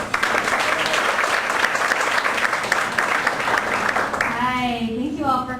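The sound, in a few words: audience applause for panel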